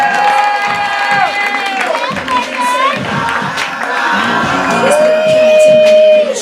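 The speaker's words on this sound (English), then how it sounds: "put your hands together for Fletcher Kade" A comedy club crowd claps, whoops and cheers loudly for an incoming comedian, with shouted voices and high whistles riding over dense, continuous applause that swells toward the end.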